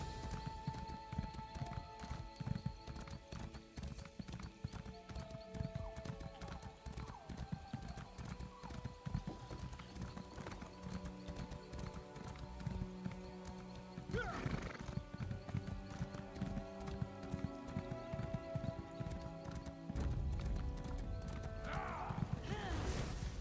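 Horse hooves clip-clop steadily, joined by a couple of whinnies and faint creaks, from the video game Elder Scrolls Online.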